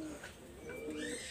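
Pakistani high-flyer pigeon giving a short, soft coo, heard faintly and close with low background noise.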